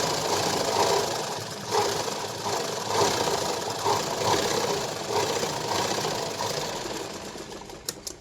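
An electric sewing machine runs a steady, rapid needle clatter with a rhythmic rise and fall in speed, stitching a second seam on a lined blouse, with a few sharp clicks as it stops at the end.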